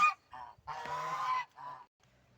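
Geese honk close by in a few loud nasal calls, one drawn out longer than the others, with quiet pauses between them.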